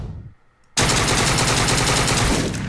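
Sudden loud burst of rapid gunfire from the video game Deadbolt cuts in after a brief quiet moment and continues as a sustained, dense volley to the end.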